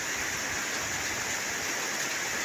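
Steady rain falls in rural Isan, Thailand, a continuous even hiss with no clear drops or voices standing out.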